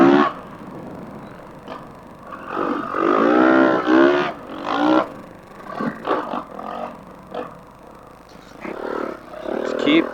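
A 2022 Honda 450R quad on the sand dunes at Winchester Bay revs in rising and falling bursts of engine roar, close and loud, with throttle surges and brief let-offs.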